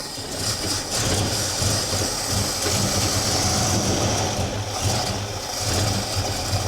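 A 1969 Fastback's engine idling while it warms up in a garage, a steady low rumble with continuous broadband roar, close and loud throughout.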